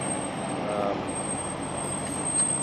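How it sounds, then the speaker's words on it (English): A truck rumbles nearby on a street, producing a steady, loud broadband roar that holds through the whole stretch with a slight swell near the end. "Right now we're hearing some noise from a truck"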